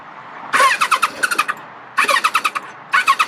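A warmed-up 1997 Kawasaki ZZR-1100 motorcycle cranks on the starter button in three bursts of rapid whirring churn, each a quick pulsing rhythm, loud and close, with brief pauses between attempts.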